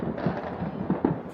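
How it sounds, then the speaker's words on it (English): Fireworks crackle and pop in scattered bursts at a moderate distance, heard from a balcony in a rough neighbourhood in Australia at New Year. "fireworks are illegal here in Australia still. They're fucking everywhere."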